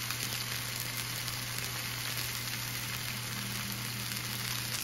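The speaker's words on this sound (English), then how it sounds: "I want to hear that sizzle." Steady, dense sizzling from halibut frying in a hot pan, continuous and fairly loud, with a constant low hum underneath and no talking.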